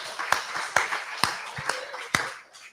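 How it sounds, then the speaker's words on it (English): Small live crowd at a Frankston venue clapping, a handful of sharp separate claps spread across the moment, fairly close and sparse rather than a full roar of applause. "give yourselves a round of applause, ladies and gentlemen"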